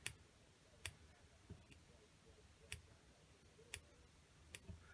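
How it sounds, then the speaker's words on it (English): Faint, crisp snips of curved scissors trimming deer hair repeat at a steady, unhurried pace, roughly one per second, in a quiet room. "Now, just a pair of old curved scissors."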